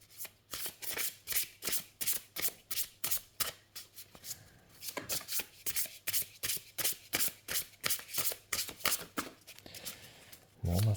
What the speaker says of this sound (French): pour brasser les cartes